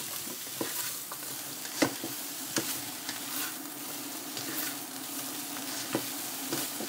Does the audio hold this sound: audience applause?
no